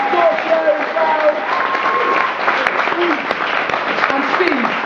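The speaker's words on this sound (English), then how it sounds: "let's do a massive round of applause for Martin George and Scorpio as well" An audience at a poetry event in Bangor claps in a sustained round of applause, dense and moderately loud, with some voices and whoops mixed in.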